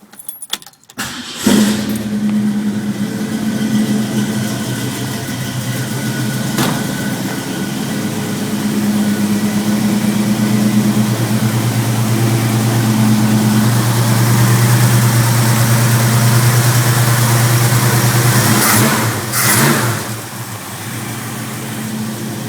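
A cold 1965 Ford Mustang engine cranks and catches after a jingle of keys, then settles into a steady, loud, close idle with a brief rev near the end, at an auto repair shop.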